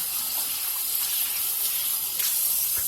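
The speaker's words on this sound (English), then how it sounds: "So I'm gonna wash my hands." Tap water runs in a steady close gush while hands are washed beneath it during sausage prep, a continuous loud splashing hiss.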